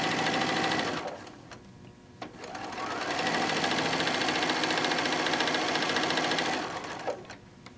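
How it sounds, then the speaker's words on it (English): A sewing machine stitching down quilt fabric runs in bursts, a steady fast mechanical whirr with short pauses and stops, close by with no talk. "we're going to sew down"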